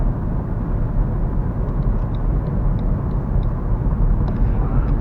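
BMW i3 electric car accelerating while merging onto a highway, a steady loud rumbling roar of road and wind noise building like an airplane taking off, with faint high tones over it.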